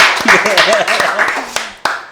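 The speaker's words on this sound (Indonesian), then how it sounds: "Terima kasih, tepuk tangan untuk Kafaat Baher." An audience gives a short burst of clapping at a promotional event, a few sharp claps standing out over a person talking loudly nearby.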